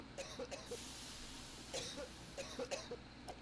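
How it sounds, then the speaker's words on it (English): Short, faint coughs from a Suffocation Smoke Bomb in the Shinden video game, heard in small repeated bursts over a quiet background. "the cough stuns him every single time he coughs from the Smoke Bomb"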